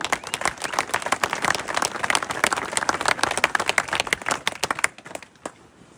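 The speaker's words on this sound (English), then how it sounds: "Another big round of applause for that young fella." A round of applause from an audience at an Irish republican gathering in Dublin, dense and steady clapping that fills the room before stopping abruptly near the end.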